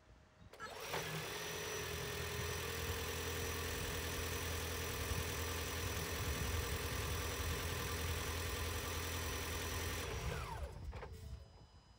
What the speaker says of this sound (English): point it at the engine, and you'll hear what it sounds like when it starts